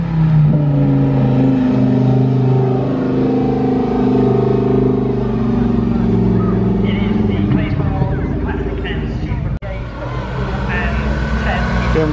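A BMW 6 Series drives past at the Clayesmore Classic & Supercar Sunday 2023 car show, its loud steady engine drone filling the scene, with crowd voices mixed in.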